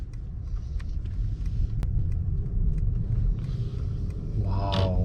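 A Mercedes-Maybach with a V8 engine pulls away, giving a steady low rumble of engine and road noise heard from inside the cabin, with a brief rise in sound near the end.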